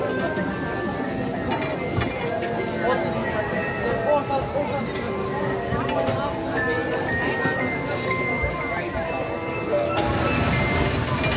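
Casey Jr circus train ride at Disneyland Paris moving along its track: continuous rolling rumble and clatter with faint squeals, under a background of crowd chatter and voices throughout.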